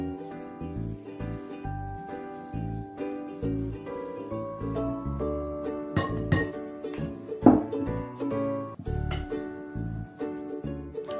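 Muffin batter ingredients stirred together in a bowl, with repeated clinking and tapping of a utensil against the bowl in an irregular rhythm, close and moderately loud, under steady background music.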